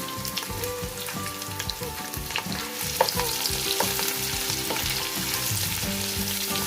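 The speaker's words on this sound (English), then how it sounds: "so after adding onion, you can just mix it nicely and cover it and cook it." Onions frying and being stirred in a pan for chicken biryani, a steady sizzle with repeated scraping and clinking of the spoon against the pan, close and continuous, no talking.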